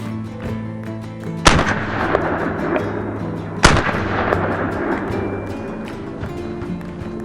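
Two loud, sharp shotgun blasts from reloaded Aguila shells ring out a couple of seconds apart, close by, over outdoor background noise and ringing echo.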